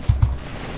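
Tank guns firing shells in the Graviteam Tactics: Mius Front German campaign: two quick, deep, muffled thumps in rapid succession, followed by a fading low rumble.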